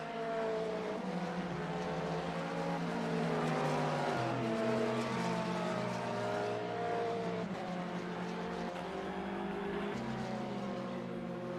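GT3 race cars, a Corvette and a Ferrari, roar around Canadian Tire Motorsport Park, with loud sustained engine notes rising and falling through gear changes as the cars run close together.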